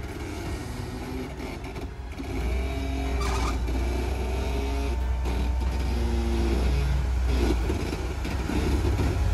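Off-road vehicle easing down the rocky Crucible trail at Rausch Creek, its engine a steady low drone that swells after about two seconds and holds, with faint scraping and creaks over the rumble.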